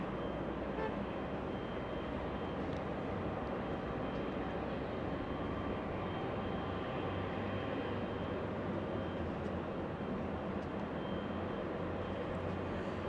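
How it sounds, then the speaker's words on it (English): Korean Air Boeing 777 with massive GE90 engines taxiing at Los Angeles International Airport, a steady, loud, broadband jet roar and rumble that holds unbroken throughout, with no talk over it. "massive GE90s there powering that Korean Air"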